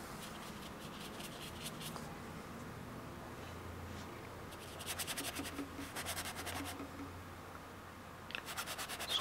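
Paintbrush scrubbing oil paint onto canvas, a soft dry rasping in repeated bursts of quick strokes, close and faint, with busier stretches midway and near the end.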